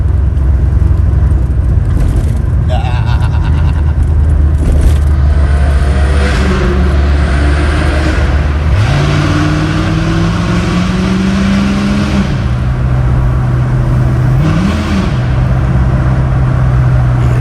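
A retro car drives through a tunnel with a loud, booming engine that rises in pitch as it revs and changes gear, and the sound echoes all around.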